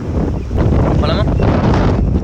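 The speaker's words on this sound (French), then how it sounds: "Et du vent, du vent chaud." Hot wind roars loudly and steadily across the microphone in Dubai, a dense rumbling gust with brief voice sounds underneath.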